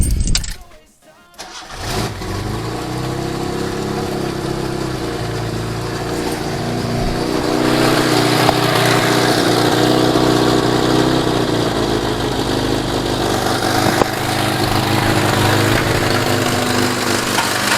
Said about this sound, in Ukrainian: Так, запускаємо двигун.